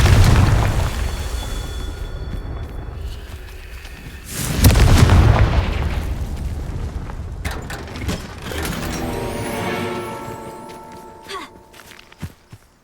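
A fiery explosion spell from Hogwarts Legacy bursts with a deep boom midway, layered over game effects, footsteps and shimmering magical tones that fade toward the end.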